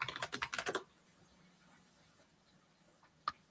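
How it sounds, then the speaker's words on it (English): A quick burst of fast keystrokes on a computer keyboard, several close, crisp clicks in a rapid run, then near silence with one last isolated tap. "I think I hear Hio typing"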